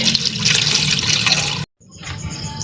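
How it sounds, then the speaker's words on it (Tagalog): Water pours into a pot of beef for Filipino boiled beef soup, a steady close splashing rush that cuts off abruptly, then resumes more lightly with trickling. "lagyan natin ng tubig"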